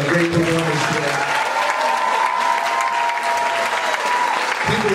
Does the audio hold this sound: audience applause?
yes